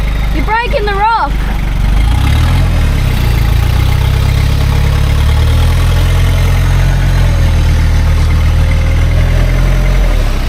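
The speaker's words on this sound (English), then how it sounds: "We're in low, four-wheel drive, first gear. So we're able to spin the back wheels." A Toyota LN106 3.0 turbo diesel in low four-wheel drive, first gear, with its back wheels spinning: a loud, steady low engine drone throughout, with a brief voice near the start.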